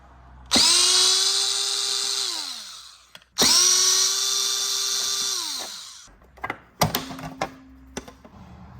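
A power drill on a BMW K1200LT motorcycle spins up loudly twice in long whirring bursts to back out body panel screws, followed by clicks and brief clatter of handling parts.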